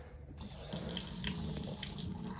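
Water runs from a sink faucet in a 2019 Wolfpack 325 toy hauler camper during winterizing, a steady splashing stream that grows slightly louder after a brief start.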